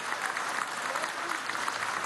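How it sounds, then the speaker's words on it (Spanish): An audience at a government event applauds in a brief, even burst of many hands, moderately loud and steady with faint voices beneath. "Un aplauso a Sinesio"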